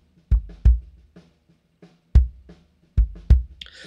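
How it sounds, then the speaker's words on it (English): Deep, punchy kick drum hits land in an uneven pattern, with fainter snare cracks bleeding through quietly in the background between them. "So you can hear that snare in the background."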